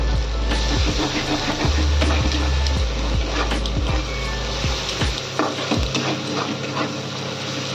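Onion, green chillies and spices fry in a pan, a close, steady sizzle broken by repeated scraping stirs and clatter, with a low hum underneath.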